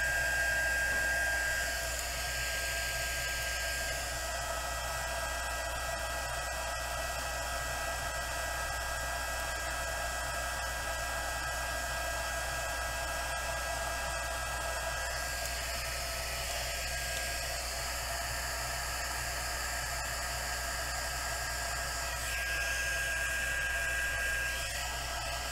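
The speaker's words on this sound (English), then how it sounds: "take your heat gun, and you're just going to heat them to start melting" A heat gun blows steadily on Tyvek packaging to melt it, a constant loud airy hiss with a low hum that runs unbroken for the whole stretch, with no voices.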